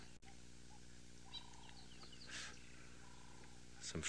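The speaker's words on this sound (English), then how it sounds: "Some francolins, turtle doves, rattling cisticula." Francolins, turtle doves and a rattling cisticola call at dawn in the African bush, faint and distant over a steady low hum, with brief chirps and a harsher rattle near the end.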